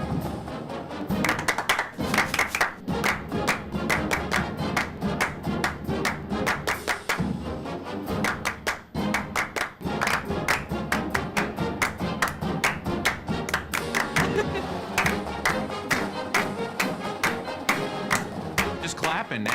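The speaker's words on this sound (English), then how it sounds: "Just clapping now." Hands clap in a steady rhythm along with band music, sharp repeated claps sounding close and fairly loud throughout, with a few thumps mixed in.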